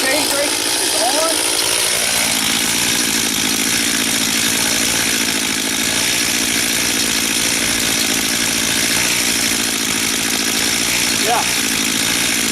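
A Stihl MS 251 C chainsaw runs steadily while cutting through a tree trunk during felling, a loud continuous engine drone holding for the whole stretch with a voice talking under it.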